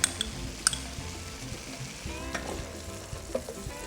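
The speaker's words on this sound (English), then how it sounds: "Okay, now give her a good stir." Sloppy joe mixture with Dijon mustard stirred in a pan, a steady close sizzle and frying hiss with soft scraping stirs throughout, no voices.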